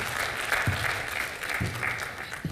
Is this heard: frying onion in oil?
no